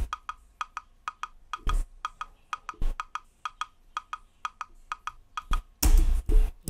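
A percussion loop programmed in FL Studio for a hard-hitting beat, with crisp repeated hits in a steady pattern, a few heavier crashes and a dense burst near the end, playing alone.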